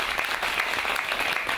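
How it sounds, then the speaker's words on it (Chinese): Audience applause at the opening ceremony of the Hong Kong 禮行天下 event, following a drum performance by a Hong Kong ancient-arts troupe. Dense, steady clapping from a large crowd continues evenly for the whole moment, with no talk over it. "让我们再次掌声鼓励"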